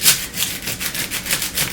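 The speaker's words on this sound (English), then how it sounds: "What you want to do is cut it enough so that you're exposing all of the cloves" Sharp kitchen knife sawing through the top of a garlic bulb on a cutting board, a close, soft rasping stroke repeated in a steady back-and-forth rhythm, with no talking.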